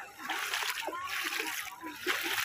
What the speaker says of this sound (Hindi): सब नहा रहे आराम से।